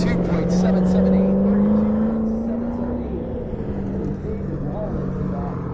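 A Ford Mustang GT race car at an SCCA event, its engine note a loud sustained drone that rises and then fades as it passes, with spectators and a track announcer audible in the background.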